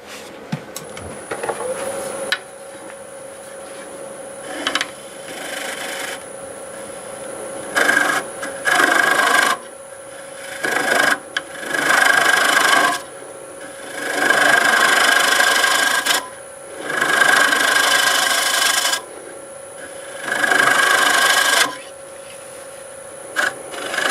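Wooden bowl being turned on a wood lathe, a gouge cutting in repeated bursts of scraping, rasping noise against a steady motor hum, the cuts coming in short then longer passes, close and fairly loud.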